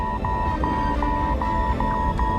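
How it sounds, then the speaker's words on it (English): A cockpit alarm signalling the autopilot has shut down aboard an Aeroflot airliner, a steady electronic tone pulsing at regular intervals over a constant roar of engine and cabin noise. "an alarm begins to sound. It signals the complete shutdown of the autopilot"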